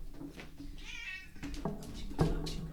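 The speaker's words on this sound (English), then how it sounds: "I've got to put the cat outside because he's distracting it." A house cat meows several times at close range, including one drawn-out, wavering cry in the middle and shorter calls toward the end, set against quiet room noise.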